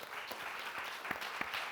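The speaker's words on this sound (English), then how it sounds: "maybe we can give an extra applause for team." A short burst of continuous clapping from a seminar audience at an event on antimicrobial resistance in food production, even and moderately loud throughout.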